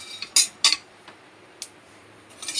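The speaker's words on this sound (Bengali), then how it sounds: "এই কটা মশলাকে আমি একটু এখন গরম খোলায় ভেজে নেব।" Whole spices are dry-roasted in a hot pan (khola) and stirred with a metal utensil, giving a few sharp, close scrapes and clinks separated by quiet gaps.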